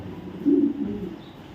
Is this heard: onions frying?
no